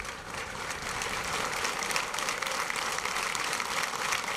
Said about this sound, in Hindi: जहां दर्शकों द्वारा जोरदार तालियों से